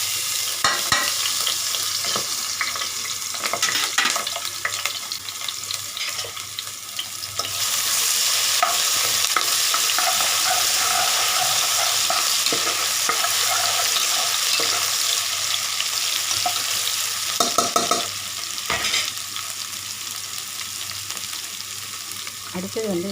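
Ginger garlic paste stirred and fried in a pan while cooking coconut milk pulao, a steady sizzle with repeated scraping stirs throughout, close and fairly loud.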